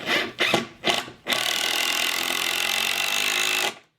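A power driver sends a screw into a 2-inch wooden plank on a heavy-duty sawhorse: a few short bursts, then one steady loud whirring drive of about two and a half seconds that stops abruptly.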